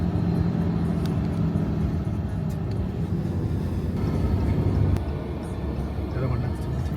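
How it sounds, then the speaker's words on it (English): Road traffic passes in Washington state, heard as a steady, dense low rumble of vehicles that holds throughout at a fairly constant level, with no single pass standing out. "And then there's traffic."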